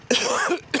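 Two coughs from a rider on a 2025 BMW 1300 RS motorcycle, a loud harsh burst at the start and a second shorter one near the end, close to the microphone.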